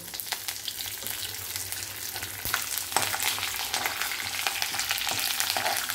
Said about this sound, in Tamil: இந்த கடலைப்பருப்பை போட்டுட்டு அப்புறம் வந்து கருவேப்பிலை போட்டுட்டு அடுப்பை அணைச்சிருங்க